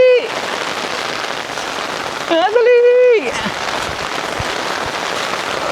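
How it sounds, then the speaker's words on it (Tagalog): Heavy rain pours steadily in a dense roar over a small farm, with a short sliding whistle-like tone partway and a brief shout near the start. "Lakas ng ulan, oh."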